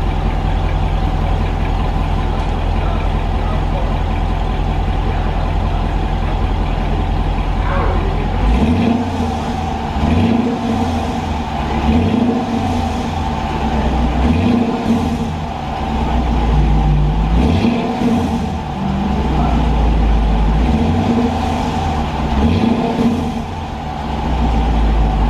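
A 2019 Dodge Durango R/T with the 5.7 Hemi V8 idles with a steady low rumble, then its exhaust is revved in a series of repeated blips rising and falling, fairly quiet overall.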